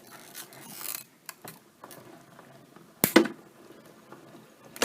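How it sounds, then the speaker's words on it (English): Stampin' Cut & Emboss machine pressing a stacked paper sandwich through its rollers, heard as scattered soft rubs and clicks followed by a sharp, loud crunching burst midway, close and without speech. "now I'm ready to run it through the Stampin' Cut"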